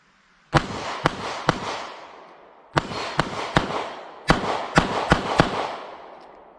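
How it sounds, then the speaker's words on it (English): A Taurus G3C 9mm pistol fires at a shooting range: about eleven sharp, loud reports in three quick strings of three to four shots, each with a short ringing tail and pauses between strings. "every time I get out to the range, I gotta put some more rounds through it"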